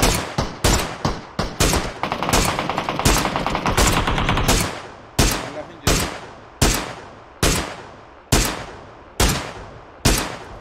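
Loud PUBG gunfire: a rapid automatic burst in the first few seconds, then single sharp rifle shots at a steady, evenly spaced rhythm, each ringing out with a short decay.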